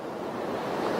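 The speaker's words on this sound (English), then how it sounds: "The tide is coming in." Ocean surf rolls in as the tide rises, a steady, soft wash of breaking waves with some wind noise and no other sounds over it.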